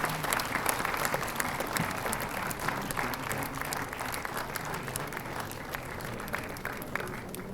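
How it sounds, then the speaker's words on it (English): Audience clapping at a startup festival felicitation ceremony, a dense, continuous burst of many hands with individual claps audible throughout, fairly close and steady. "I think it will be a great idea if you can clap."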